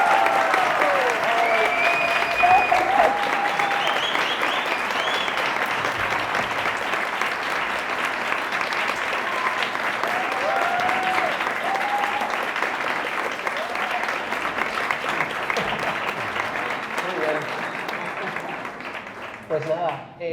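An audience applauds at the close of a talk on e-commerce and spatial computing, with dense, sustained clapping lasting about twenty seconds before tapering off. A few voices mix into the crowd noise.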